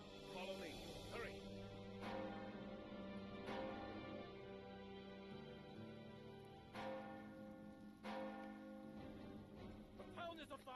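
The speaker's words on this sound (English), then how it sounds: "The town bells." Town bells in the video game LOTRO, a faint ringing of church-style bells with repeated strikes, heard under a voice speaking.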